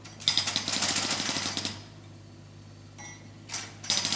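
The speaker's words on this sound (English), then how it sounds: "The clever digger can spin all the way around and hammer on the other side too." A digger's hydraulic hammer breaks up pavement with a fast, loud run of rattling blows, then stops and restarts in short bursts.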